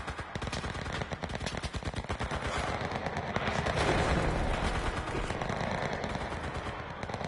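Rapid automatic gunfire in the shooter game CRSED, a dense loud burst of fast repeating shots that runs almost without a break and swells toward the middle.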